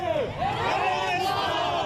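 A large crowd of about 10,000 protesters in Berlin roars and chants together in a continuous, loud mass of voices with no pauses.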